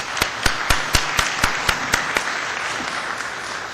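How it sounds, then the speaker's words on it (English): A round of applause from a tutorial audience at a networking conference, led by sharp, evenly spaced close claps from one person over a softer crowd wash, the rhythmic claps fading as general clapping continues. "Let's all have a round of applause."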